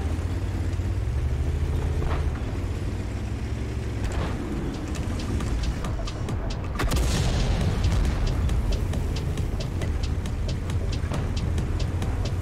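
A tank cannon shot and explosion in the World of Tanks video game arrive as a loud booming burst over a continuous low rumble of engine and battle noise, with no speech.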